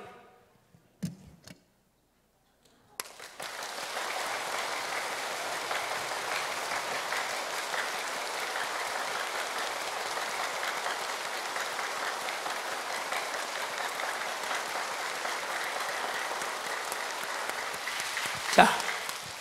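Church congregation applauding during a sermon: after a few scattered early claps, a dense, even round of clapping runs steadily for about fifteen seconds, moderately loud and without talk, ending with a brief louder burst.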